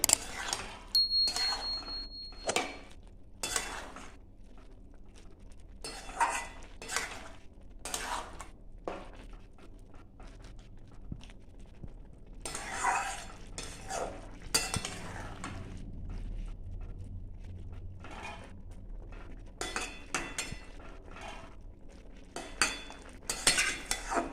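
A spoon stirs shukto vegetables with a little ghee in a pan, making repeated scraping and clinking strokes against the metal in an irregular rhythm, close by, with a faint sizzle underneath.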